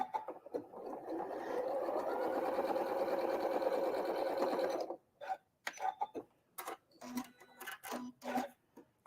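Sewing machine stitching a quarter-inch seam on white fabric, a fast steady whirring run of about five seconds, followed by scattered soft handling clicks and taps, close and without talk.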